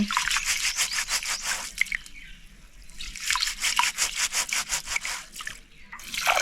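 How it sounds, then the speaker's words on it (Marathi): Rice being washed by hand in water, a steady rhythmic swishing and sloshing that repeats in quick strokes, loud and close, easing off briefly midway before resuming. "असे दोन तीन वेळा चांगले धुवून घ्यायचे तांदूळ"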